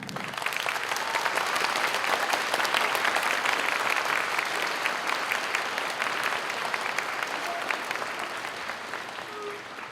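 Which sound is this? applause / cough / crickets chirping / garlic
applause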